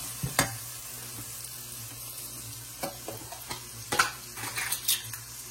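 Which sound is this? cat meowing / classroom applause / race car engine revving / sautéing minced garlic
sautéing minced garlic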